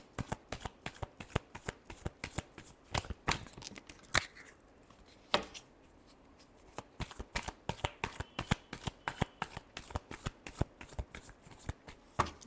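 A deck of tarot cards is shuffled in steady, rapid riffles close to the listener, the crisp card slaps repeating for the whole stretch with only a brief pause midway.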